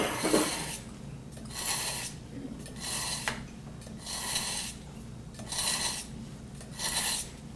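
Kitchen knife drawn through a small handheld sharpener, six evenly spaced raspy scraping strokes with brief pauses between them, close and fairly quiet with no talking.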